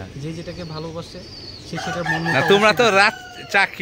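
A rooster crows loudly and close by, its long, wavering call rising over a voice and cutting across his talk near the end.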